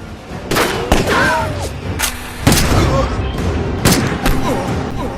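Gunshots crack and boom repeatedly in a film shootout, loud and close, spaced a second or so apart over rumbling background, with voices mixed in around the shots.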